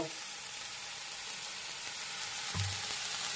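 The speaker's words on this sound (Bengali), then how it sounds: "এটাকেও খুব ভালো করে ভেজে নেব। মশলাটা কষা কষা হয়ে এসছে" Spice paste for curd fish curry (doi katla) fries in mustard oil in a pan, giving a steady, close sizzling hiss with a brief low thump near the end.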